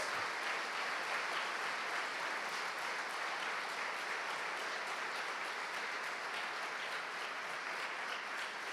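A church congregation at a Spanish-language prayer service applauds strongly, a dense, even roar of clapping sustained for several seconds without pause, heard from a distance and fairly soft overall.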